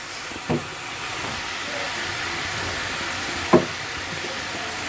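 Potato bhaji fries in a pan with a steady, even hiss, and two soft thumps break through near the start and end.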